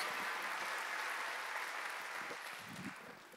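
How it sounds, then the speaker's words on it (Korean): A church congregation applauds during a Wednesday worship service, a broad wash of clapping that fades away over a few seconds. "깨달은 사람만 박수 치라."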